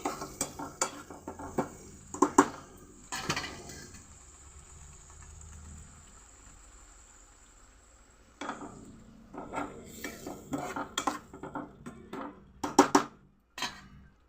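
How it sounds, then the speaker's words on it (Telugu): Tomato paste with raw tomato pieces frying in a pan for egg gravy curry, stirred with bursts of spoon scraping and clanks against the pan, a quieter sizzling stretch in the middle, close up. "కొంచెం పచ్చివాసన పోయేదాకా బాగా ఫ్రై అవ్వనివ్వాలండి"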